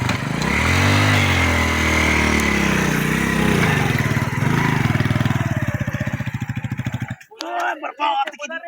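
Motorcycle engine revving loudly and steadily for about seven seconds in an outdoor roadside setting, its pitch rising and falling with throttle, then cutting off abruptly as a voice speaks briefly afterward.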